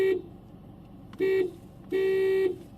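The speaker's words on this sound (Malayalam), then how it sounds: "ഇതിൻ്റെ ഹോൺ സൗണ്ട്" A 2024 Volkswagen Virtus Topline car horn sounds three times up close: a short toot, then two longer honks, each a steady, loud, bright tone with brief pauses between.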